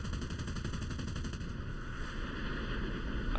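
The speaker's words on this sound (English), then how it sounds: "There you can hear the 50 cals on the G91s going off." Fifty-caliber machine guns fire from G91 jets during a War Thunder aerial dogfight, a steady, dense rattling burst that continues throughout at a fairly low level.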